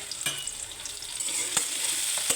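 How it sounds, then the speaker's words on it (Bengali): Spicy vegetable bhaji frying in a pan, a steady hiss of sizzling oil with sharp scraping clicks of a spatula stirring the vegetables at intervals, close and fairly quiet. "এগুলো নাড়াচাড়া করে"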